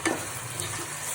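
Vegetable fried rice with mint stir-fried in a pan gives a brief burst of sizzling and scraping, close and moderately loud, with no talking.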